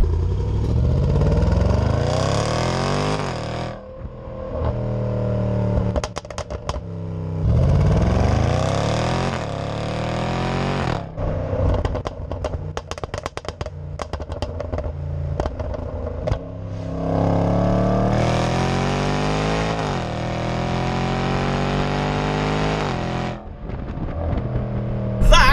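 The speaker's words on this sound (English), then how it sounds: "give you guys a couple of seconds of solid engine note from that SVR" A Range Rover Sport SVR's 5-litre supercharged V8 in sport mode, loud and close, with repeated revving accelerations that rise and fall in pitch, separated by crackling, popping overrun bursts.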